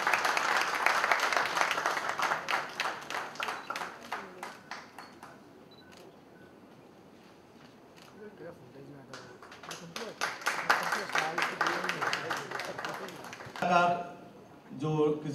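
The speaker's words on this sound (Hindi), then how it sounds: "सो जोरदार तालियां बजाएं राजीव निगम जी." Applause and clapping for Rajeev Nigam at a book launch with TV celebrities, bursts of clapping rising and fading around a quieter stretch, with voices heard alongside.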